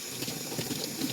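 Water runs from a heated tap in a home in Korea, a steady close splashing rush with no voices.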